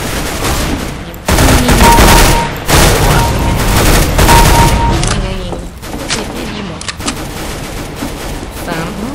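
Rapid bursts of gunfire from the video game Counter-Strike: Global Offensive, loud and close, with repeated volleys and short gaps, joined by someone talking over the shooting.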